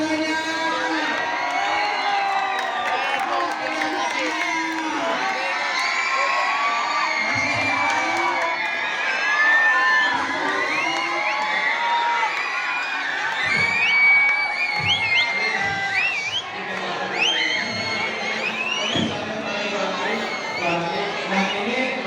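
Students at a waste bank cheer and shout together in a sustained, loud crowd roar, with children's whoops and yells rising above the din throughout.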